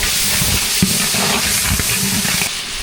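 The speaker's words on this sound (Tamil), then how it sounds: "இஞ்சி பூண்டு பேசி சேர்த்தாச்சு நல்லா கலந்துக்கலாம்" Ginger garlic paste frying with onion and tomato for a coconut-milk mutton biryani, stirred in the pot: a steady, close, dense sizzle with a few soft scraping knocks from the spoon, no voices.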